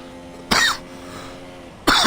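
Two sharp, loud coughs from someone close by, spaced apart, with a faint steady hum in between.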